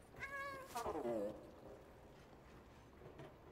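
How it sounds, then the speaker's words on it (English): A cat in the video game Stray meows in a slums area, two drawn-out rising-then-falling cries close and clear near the start, then a quieter stretch with faint game ambience and a soft trailing sound. "I'm about to meow all over you."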